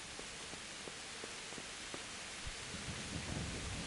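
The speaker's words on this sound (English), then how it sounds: "A bit of a storm going on around us." Thunderstorm with rain in the video game Kingdom Come: Deliverance: a dense, constant hiss of rainfall with scattered faint ticks and a low rumble of thunder swelling toward the end.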